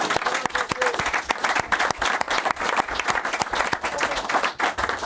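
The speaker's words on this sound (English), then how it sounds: "Ian Westlake, everybody, give him a round of applause." A TV show studio audience gives a round of applause, dense continuous clapping sustained throughout at close range.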